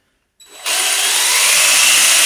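An electric drill whirs up sharply and holds a loud, high, steady whine at full speed until the end, in a workshop with a Matchless Model X motorcycle that has a major misfire.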